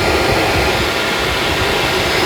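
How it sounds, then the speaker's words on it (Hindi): A motorcycle radiator cooling fan runs steadily during coolant temperature sensor and fan testing, a loud, close, continuous whirring rush with no talking. "ये फैन चल रहा है"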